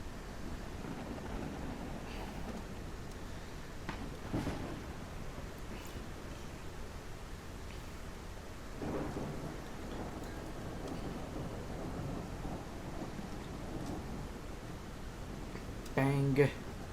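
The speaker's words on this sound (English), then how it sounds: "thunderstorm, I hate it." Constant hiss of steady rain in a thunderstorm in the train game RRO, with occasional low rumbles of thunder rolling in and out, and a sharper burst near the end.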